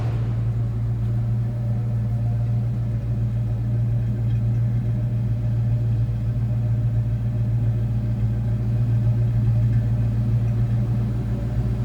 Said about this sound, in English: Nice throaty exhaust note